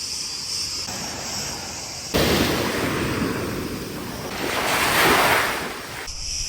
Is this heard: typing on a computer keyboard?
no